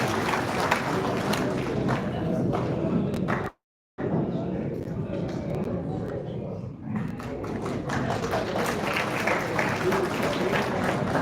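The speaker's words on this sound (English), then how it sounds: "Please give a huge round of applause for our director, sir, and Professor Rajiv Raiya" An audience at a college ceremony applauds a director and professor, dense clapping filling the room before and after a brief gap, with a louder, livelier burst toward the end.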